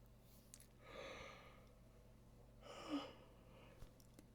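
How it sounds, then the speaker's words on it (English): A person yawns twice, two breathy drawn-out exhalations about a second and a half apart, soft and close, in an otherwise quiet room with a faint hum. "I just yawned."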